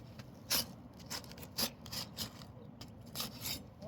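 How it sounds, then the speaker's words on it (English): A soft-nosed putty knife scrapes adhesive off a roof shingle in short, quiet, irregular rasping strokes, close by and with no talking. "So start with my soft nosed putty knife. Start on one end of the shingle."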